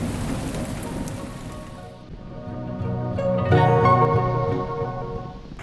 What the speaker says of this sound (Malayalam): ഞാൻ ഈ പോകുന്ന വഴിക്കെല്ലാം മഴ ഇങ്ങനെ പെയ്യുന്നുണ്ട്